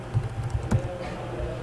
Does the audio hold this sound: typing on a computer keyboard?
yes